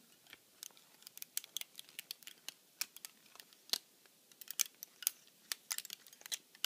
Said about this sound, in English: That clicking sound is something that you cannot get rid of because it's the mechanism inside